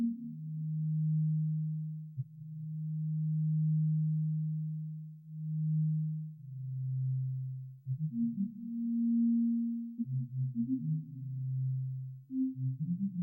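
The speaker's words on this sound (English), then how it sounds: "we should be able to hear the character of the minor pentatonic now." A Sonic Pi synth plays a minor pentatonic scale from C3 as pure, sine-like tones, first long sustained notes, then shorter stepping notes with small pitch glides, clean and alone without voices.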